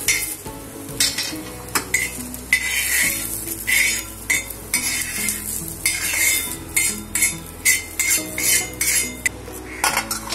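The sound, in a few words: scooping fried onion out of the pan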